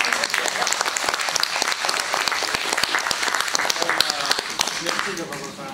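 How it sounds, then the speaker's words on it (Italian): An audience applauds continuously at a university lecture, with dense, steady clapping and voices mixed in underneath. "un applauso, grazie"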